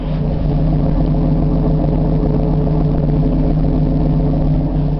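A 1979 Chevrolet Camaro engine runs steadily just after a cold start outdoors in snow, a loud, constant low rumble with a faint, muffled exhaust note and no talk.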